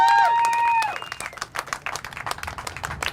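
Crowd of motorcyclists cheering and clapping in a burst of noisy applause that rises after a held horn-like tone, with shouts scattered through the dense clapping.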